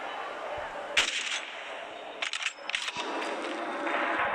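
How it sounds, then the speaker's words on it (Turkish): Sniper rifle shots in a video game, a sharp crack near the start and a quick cluster of bright impacts later, loud and close over a steady game background hiss. "Şimdi onu vuracağım."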